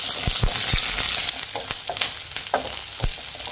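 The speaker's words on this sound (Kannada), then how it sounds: "ಫ್ರೆಂಡ್ಸ್, ಇದನ್ನು ಫ್ರೈ ಮಾಡಿ." Chopped onions and green chillies frying in a pan, a loud close sizzle with repeated stirring clicks and scrapes of a spatula, no voices.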